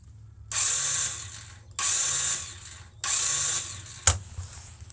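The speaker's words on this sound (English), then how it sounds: "you're only getting the starter motor, and it's just going zzz, zzz" A Suzuki GS500F motorcycle's starter motor cranks without the engine catching. Three close, buzzing whirs of about a second each are separated by brief pauses, then a sharp click follows.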